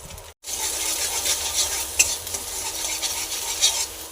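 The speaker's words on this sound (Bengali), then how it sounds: "ডিমটাকে এইভাবে ঝুড়ো ঝুড়ো করে ভেজে নিলাম" An egg fries and is stirred into crumbly scrambled pieces in a pan before water spinach is added, a steady close sizzle with occasional light scrapes and taps of the utensil against the pan.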